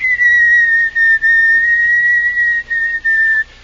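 A person whistles a slow, steady melody, sustained tones with brief pauses between phrases, loud and close with no talk.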